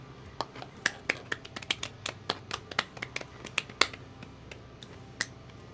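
Sharp hand claps or glass clinks on a live stream, a quick irregular run of crisp, close taps, some louder than others, over a quiet room.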